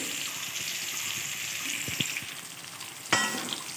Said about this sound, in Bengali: কাঁচকলাটাও ভাজা হয়ে এসেছে।